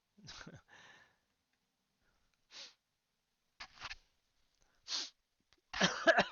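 Several short hay-fever sniffs and snuffly breaths come in separate bursts with pauses between, close and fairly quiet, and a louder burst of breathy noise closes it.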